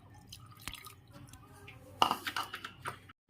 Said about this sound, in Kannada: ಈ ಬೆಲ್ಲ ಮುಳುಗುವಷ್ಟ ನೀರು ಹಾಕ್ತೀನಿ